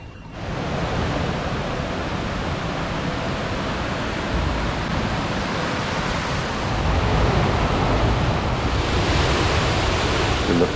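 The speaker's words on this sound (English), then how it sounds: "Its multiple cascades tumbling 200 feet to the bottom." Steady, dense rush of a multi-cascade waterfall dropping 200 feet, roaring continuously, loud and close, with a slight swell in intensity toward the end, in Luang Prabang Province.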